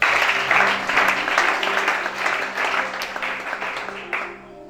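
A church congregation at a Gabonese Sunday service bursts into loud, sustained applause, many hands clapping densely together before fading toward the end.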